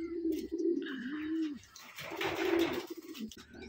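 Pigeons coo in a loft, a few low rolling coos close by with softer chirps and fluttering rustle between, no talk.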